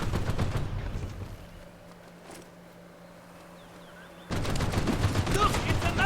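Video game gunfire from Mercenaries 2 crackles in dense bursts, loud rapid automatic volleys at the start, a quieter pause with a faint hum, then another sustained barrage resumes.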